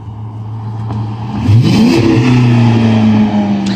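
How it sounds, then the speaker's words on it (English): A Dodge Charger with Flowmaster 40 mufflers revs while coming down a hill, its deep exhaust rumble swelling into a loud throaty rise that holds near and strong for a couple of seconds. "Hopefully he gives it one little rev coming down the hill."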